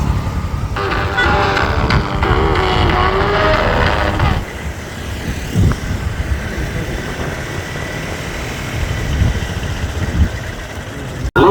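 Vehicles in a street procession of fans idle and rumble together, with a horn toot and a loud crowd-like wash early on, then steadier engine drone with scattered background voices.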